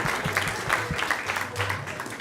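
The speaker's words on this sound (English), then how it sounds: "Please give them a big round of applause." Audience applause at a Hare Krishna temple discourse, clapping from a gathered congregation mixed with voices, a short burst heard mid-room rather than dominating.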